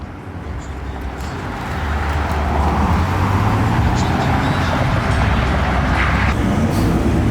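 A Toyota Supra pulls away at a car meet, its engine and road noise swelling from a steady rumble into a louder, sustained drone that holds to the end.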